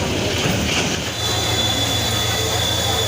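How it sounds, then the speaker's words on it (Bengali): The Nasirabad Express, leaving Gouripur railway junction for Mymensingh, rolls along the rails with a loud continuous rumble, a steady clatter of wheels and a high metallic squeal. "Nasirabad express Garipur railway junction থেকে ছেড়ে গেল ময়মনসিংহের উদ্দেশ্যে"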